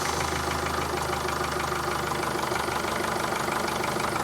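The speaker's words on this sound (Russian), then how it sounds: "Сейчас заведу автомобиль и продемонстрирую то, что двигатель сейчас ровненько все нормально работает" A Mercedes Vito 638 with the 2.2 CDI diesel engine idles steadily, a continuous even engine drone with a faint rhythmic clatter, close and alone without talk.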